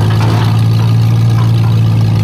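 A motorcycle engine with gummed-up carburetors runs with a loud, steady low drone and rough buzzing, heard alone up close for a couple of seconds.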